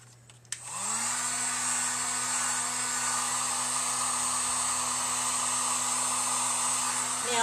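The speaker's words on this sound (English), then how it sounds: "So I'm going to go ahead and dry this with my my heat gun." A heat gun starts up with a short click and then blows a steady, loud whoosh and hum, drying a freshly painted wooden hexagon sign.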